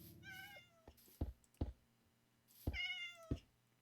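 Cats in the video game Minecraft meow twice, with drawn-out wavering calls. Sharp knocking clicks fall between the calls, and the whole passage is faint.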